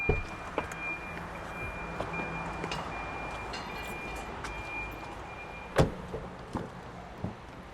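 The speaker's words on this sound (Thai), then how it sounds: "เดี๋ยวเปิดประตูแวะดูข้างหลังกัน" The door of an Isuzu D-Max four-door raised pickup opens with a sharp latch click partway through. A few softer knocks follow, over a low background hum, and no one speaks.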